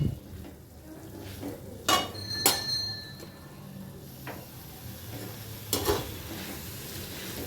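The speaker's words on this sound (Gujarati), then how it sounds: "હવે આપણે છોલે બાફવા માટે જે પાણીનો યુઝ કર્યો હતો એ પાણી આમાં એડ કરીશું." Water saved from boiling chickpeas is added to a pan of thick chole masala gravy and stirred, with a few sharp spoon-on-pot clinks over a soft background of bubbling and scraping.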